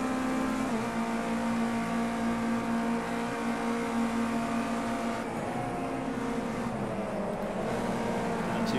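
A Ginetta Junior race car in Project CARS 2 drones along with a steady, loud engine tone at constant pitch, holding a sustained note with only slight shifts and no voices.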